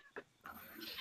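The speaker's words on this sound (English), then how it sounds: "I'm fairly certain it's not a real cat. It's just a plush toy you squeeze." A squeezed plush toy cat lets out a couple of short, soft squeaky mewing sounds close by, the second one longer and more drawn out.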